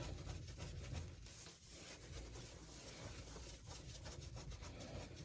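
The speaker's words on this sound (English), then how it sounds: "let's finish scrubbing the rest" Steady scrubbing of a dirty surface during cleaning, a continuous close rough rubbing with a faint rhythmic back-and-forth texture and no talk.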